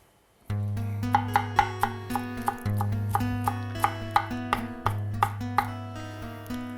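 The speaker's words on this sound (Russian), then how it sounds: "То, что я сейчас режу, в России называют кинза." A knife chops fresh cilantro rapidly and rhythmically on a cutting board, the sharp taps sounding over a steady humming tone.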